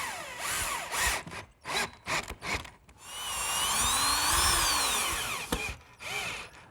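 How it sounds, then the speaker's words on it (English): A power drill drives screws into a wooden chair stump, first in several short ratcheting bursts and then in one long whining run, loud and close. "now I can secure the stump with some screws"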